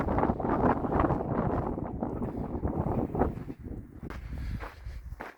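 Wind rushes steadily at the entrance to a Utah slot canyon, a loud, continuous buffeting roar against the microphone with faint rustling, and no voices.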